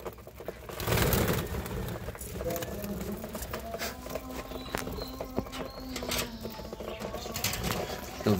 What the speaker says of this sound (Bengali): এখন সবগুলো পাখি একে একে নেমে আসবে খাবারের জন্য